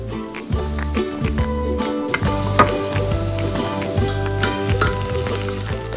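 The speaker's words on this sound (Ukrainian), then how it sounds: "Обсмажимо цибулю та часник на рослинній олії." Onion and garlic sizzle steadily in hot vegetable oil, a continuous close frying crackle with a low tonal hum running underneath.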